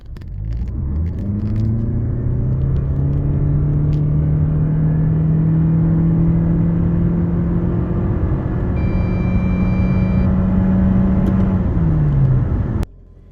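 A 2023 Toyota C-HR 2.0 Hybrid pulls away hard from a standstill, its engine and electric motor rising in a steady, loud drone with a climbing whine for about twelve seconds before cutting off abruptly.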